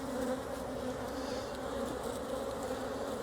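Honey bees buzz around a hive in a dense, continuous drone, close and steady, with individual insects passing near; no one speaks.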